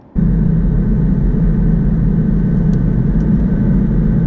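A 2018 BMW M4 with a 7-speed DCT transmission driving through corners, its engine a loud, steady low rumble heard from inside the car, continuous and without talk.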